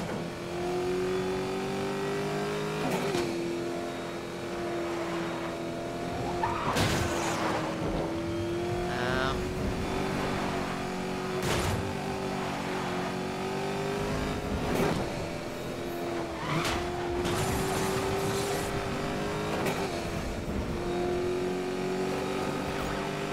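A Pagani Huayra supercar in the racing game Need for Speed: Most Wanted roars continuously, its engine note climbing and dropping through repeated gear shifts, loud and close with sharp bangs from collisions.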